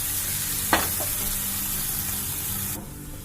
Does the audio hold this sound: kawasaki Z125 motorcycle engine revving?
no